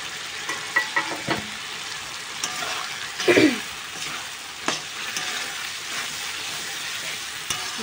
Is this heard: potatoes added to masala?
yes